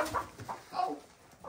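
Chickens clucking in a short burst of soft, irregular calls on a farm at feeding time, several close by and moderately loud with no talk over them.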